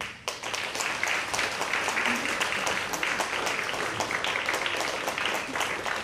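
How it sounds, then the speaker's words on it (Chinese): Audience applause greets the judges at a men's final of a Malaysian national vocal competition, a dense, steady wash of many hands clapping in a hall, sustained and fairly loud throughout with no talk over it. "我们再次以掌声欢迎我们今天的评审"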